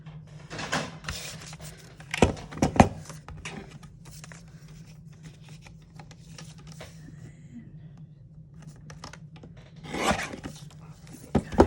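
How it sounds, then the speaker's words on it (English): Paper for a junk journal being trimmed along its bottom edge: scattered rasping, rubbing cuts in short bursts separated by quiet stretches, with a steady low hum beneath. "I'm just going to trim some off the bottom"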